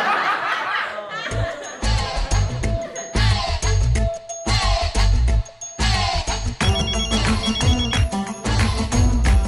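A mobile phone ringtone plays a repeated jingling melody, loud and close, broken by short gaps, with laughter and voices mixed in around it.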